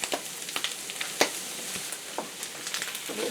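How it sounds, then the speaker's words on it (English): Eggs frying in a pan for a homestead breakfast: a steady soft sizzle scattered with sharp crackles and pops, fairly close, with no talk. "I'm going to go ahead and let these eggs cook for just a second."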